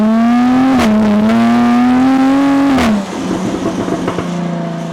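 Jaguar F-Type sports car engine revving high, a loud, close, sustained tonal roar that holds near the top of its range, then drops sharply as the revs fall away into a rougher burbling idle.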